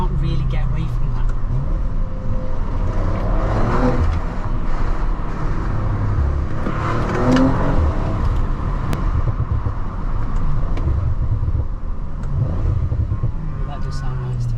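Audi RS5 Carbon Edition accelerating hard with the throttle floored, a steady loud engine roar and road rumble heard from inside the car while a person talks over it.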